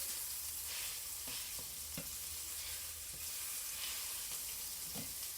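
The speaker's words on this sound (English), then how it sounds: "it just like sausage frying" Homemade ground pork sausage patties frying in a pan, a quiet steady sizzle with occasional soft pops and crackles, no talking.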